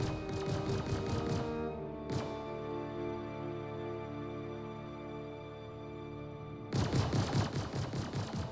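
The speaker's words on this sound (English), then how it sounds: "I had my turret gunner shoot over this rock and hit the target." Turret gun firing in the space game Star Citizen, with rapid rhythmic bursts at the start and again near the end, separated by a long sustained electronic hum with one short shot in between.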